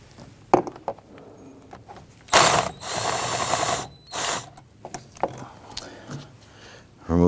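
A hand ratchet works the 10 mm bolts on the air filter box of a 2011–2014 Kia Sorento, giving bursts of rapid clicking close by with short pauses, tool handling noises and a quick final ratchet run.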